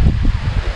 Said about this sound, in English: get windy now, my people, look at that